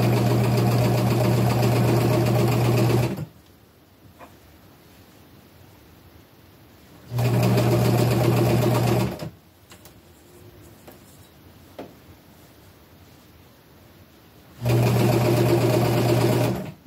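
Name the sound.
sewing machine stitching upcycled clothing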